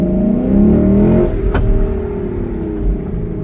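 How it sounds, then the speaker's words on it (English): A 2022 Lexus LC 500 pulls away hard under launch control. The engine roars loudly up through the revs, with a sharp shift-like crack about midway, then settles into a steadier, lower drone as the car keeps accelerating. "And that is how easy it is to do launch control in the 2022 Lexus LC 500."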